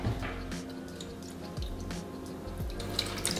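Water poured into a baking tray for an egg sponge burger, trickling and dripping in brief bursts with light clatter, close and fairly quiet.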